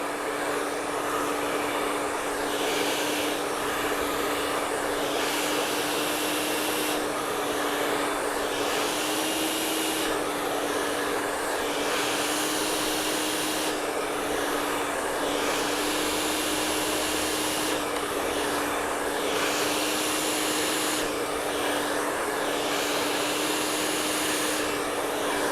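A hair dryer roars continuously at close range during a state board blow-dry procedure, a loud steady whoosh with slight rhythmic swells as it moves over the hair.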